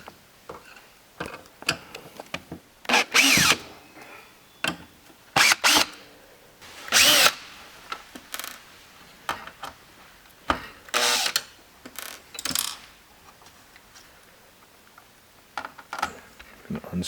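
Small tool-and-metal clicks and brief drill-like bursts from unscrewing a wire bracket on a Gene Cafe CBR-101 coffee roaster during a left damper replacement, arriving as scattered taps and short whirs with quiet gaps, close by.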